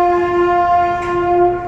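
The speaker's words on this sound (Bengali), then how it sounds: "আওয়াজ আসছে ট্রেনের।" A train engine sounds a loud, steady, sustained horn as it approaches a level crossing with the gate lowered, holding one unbroken tone close by.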